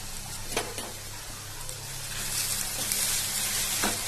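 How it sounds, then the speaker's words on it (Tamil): Two onions and dried chillies sautéing in coconut oil, a soft continuous hiss and crackle up close, growing slightly louder in the second half, with a few faint clicks of a utensil and no voices. "2 வெங்காயத்தை இதுல சேர்த்து வதக்கிக்கலாம்"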